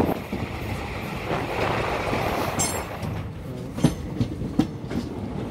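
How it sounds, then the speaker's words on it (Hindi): Clickety-clack of train wheels on rail track as an Indore–Jabalpur overnight express runs toward Maksi Junction after Dewas, a steady rumble of the moving train with sharp rhythmic wheel clicks near the end, no voices. "शानदार ट्रैक साउंड के साथ मक्सी जंक्शन की ओर बढ़ती हुई ट्रेन"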